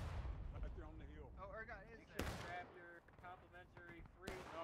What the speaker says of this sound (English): We got artillery over there again.